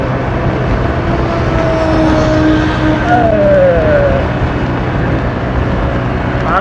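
A Honda Vario 160 scooter hums along on the road, a steady engine drone with rising and falling whine as it rides, loud and close.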